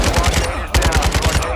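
Rapid automatic gunfire in Call of Duty DMZ, Warzone 2, a loud close burst of shots in quick rhythm, pausing briefly midway and then resuming.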